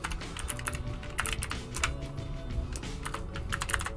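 Rapid, irregular clicking of keys being typed on a computer keyboard, heard close by in bursts of quick taps with short pauses in between.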